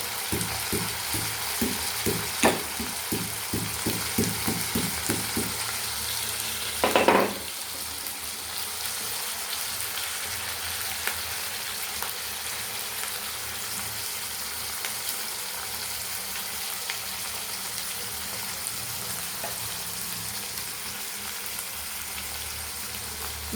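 Murrel fish curry ingredients frying and sautéing in a pan, a steady sizzle with a brief rhythmic patch of stirring or scraping early on and one sharp clatter, otherwise a continuous moderate hiss with no talk.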